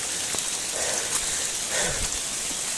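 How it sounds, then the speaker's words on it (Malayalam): Heavy rain pours steadily in a dense, continuous hiss, with scattered louder drops and splashes hitting nearby surfaces. "നല്ല മഴ"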